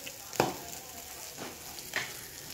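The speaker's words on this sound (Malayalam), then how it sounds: "കടുക് വറക്കാം." Mustard seeds fry in sesame oil in a pan with a soft, close sizzle, broken by a few distinct pops and spatters against a quiet background.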